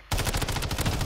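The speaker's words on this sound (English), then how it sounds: "Shotgun." Shotgun fire in the Warzone video game, a sudden loud burst of rapid blasts starting abruptly and continuing in quick succession, close and harsh.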